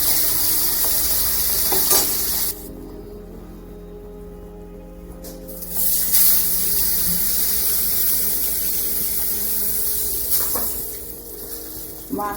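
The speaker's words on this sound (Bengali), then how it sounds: "মাছগুলোর সাইজগুলো অনেক বড় বড়, তো এই জন্য একটু দুটো দুটো করে ভেজে নিচ্ছি" Large pomfret fish fry in hot oil two at a time, a steady loud sizzle that drops away for a few seconds and then returns, with occasional sharp spits and stirring.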